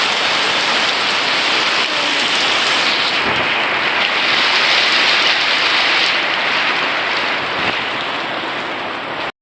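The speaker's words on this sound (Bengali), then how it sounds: "দেখো বলতে বলতে বৃষ্টি শুরু হয়ে যাচ্ছে" Steady rain falls outdoors as a dense, even hiss of drops hitting surfaces, loud and continuous throughout with no voices.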